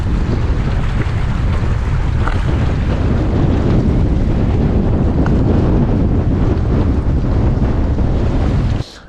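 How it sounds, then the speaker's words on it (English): Strong wind in the Scottish Highlands roars continuously against the microphone, loud and unbroken, with a faint rush like water in the background. "It's bloody windy."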